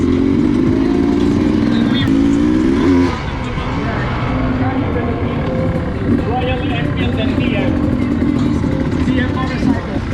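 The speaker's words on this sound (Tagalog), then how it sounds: "test ride this SC300 enduro bike" A Sherco SC300 two-stroke enduro motorcycle revs loudly and steadily close by while riding, with a rough buzzing drone that dips briefly before picking back up.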